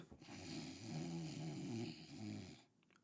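Steady snoring for about two and a half seconds, a rough rattling breath that swells and fades in a few cycles, close and moderately loud, then cuts off into quiet.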